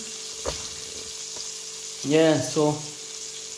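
Chicken necks sizzle quietly in hot oil over medium heat, Jamaican fried-chicken style, with a few louder bursts of crackling partway through, while a person speaks briefly over it.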